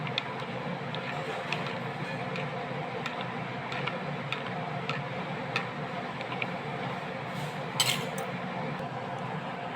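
Honey is stirred into apple juice, with a spoon ticking and clinking against the container in a quick, regular rhythm, close and steady throughout, and a slightly louder clink near the end.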